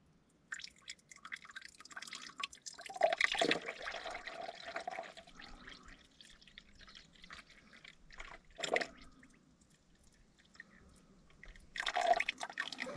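Water drains and drips out of a hydrolocked Shibaura N844L engine from a New Holland TC45 tractor, in faint irregular splashes and trickles with a few louder gushes and long quiet gaps.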